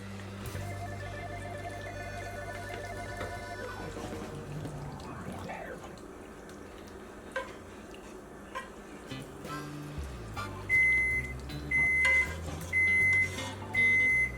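Close kitchen scene ending in a short run of evenly spaced high electronic beeps from a preheated oven, about five tones over the last few seconds, after quieter clattering and running-water sounds.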